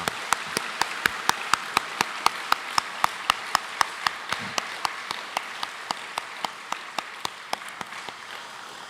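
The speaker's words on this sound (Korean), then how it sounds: "우리 한번 박수하도록 하겠습니다" A church congregation claps together in a steady, even rhythm, sharp unison claps repeating for several seconds and gradually slowing toward the end.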